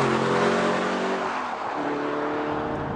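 A V12 Aston Martin DB9 Sport Pack with the exhaust baffles removed sounds off loudly. Its throaty engine note sweeps in pitch as it revs and eases, rich and sustained throughout.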